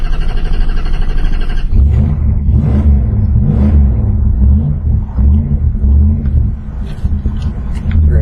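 A wood-gas powered truck engine cranks and catches, then settles into a loud, close, rough rumble with uneven revving that swells and dips while a voice speaks briefly over it.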